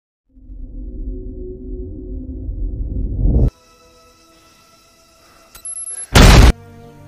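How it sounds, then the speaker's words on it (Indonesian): A sudden explosion bursts from inside a tomb in the film No Time to Die, a short, loud blast that cuts through low rumbling ambience, followed by ringing tones, a brief bright burst and lingering debris noise. "tiba-tiba saja muncul sebuah ledakan dari dalam makam Vesper"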